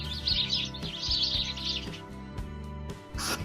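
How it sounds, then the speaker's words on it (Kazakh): A sparrow chirps in quick, bright clusters, first in two dense runs and then a final burst, over soft rhythmic background music. "торғай"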